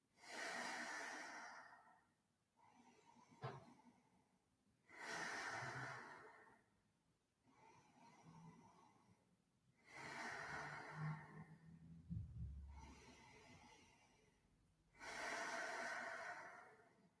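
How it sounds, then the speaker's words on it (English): Slow, deep yoga breathing sounds close and soft, with long airy inhales and exhales alternating in an even rhythm of about four breaths, each lasting a couple of seconds, with no talking. "Make your breathing a bit longer."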